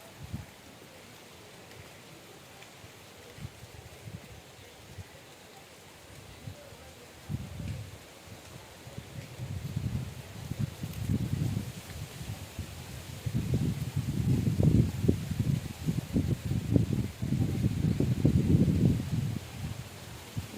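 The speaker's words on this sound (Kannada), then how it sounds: "ಏನು ಗಾಳಿ ಬೀಸುತ್ತಪ್ಪ" Strong wind gusts across an open farm plot where pigeon pea seeds and chilli seedlings are being planted, rumbling and buffeting in waves that grow louder and more frequent over about twenty seconds.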